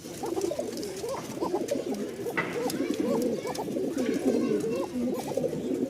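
Giribaj and fancy pigeons in a loft coo steadily and repeatedly, several birds overlapping in a continuous low murmur, close by, with faint voices now and then.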